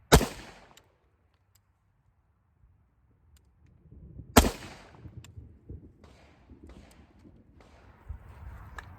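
Rifle shots fired during a beginner low-round-count shooting drill, two sharp loud cracks about four seconds apart, each followed by a brief decay, with faint handling noise and shuffling between.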